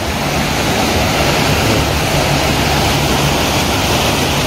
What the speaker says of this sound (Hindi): नदी के करीब बिल्कुल पहुँच गया हूँ मैं